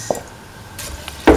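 Rice being stirred into a chickpea and coconut milk mixture in a pot, a few brief wet squishes and a sharper clink of a utensil near the end, close, with quiet gaps between strokes.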